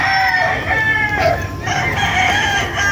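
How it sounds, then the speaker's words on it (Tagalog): Roosters crow repeatedly at a large chicken farm with breeding areas, several overlapping cock-a-doodle-doo calls rising and falling over a steady bed of clucking and farmyard noise. "Malawak yung manukan nila, meron pa doon sa baba."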